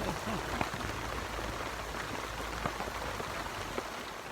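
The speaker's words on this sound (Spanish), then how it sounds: "Estamos a jueves, día de lluvia." Steady rain falls outdoors on a Thursday during a road trip, a dense continuous hiss with scattered louder drop taps throughout, fairly close and with no clear talk over it.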